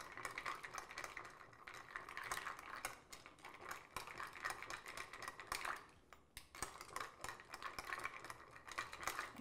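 Ice clinking and scraping steadily inside a mixing glass as an Old Pal cocktail is stirred, a continuous close rattling that pauses briefly before resuming.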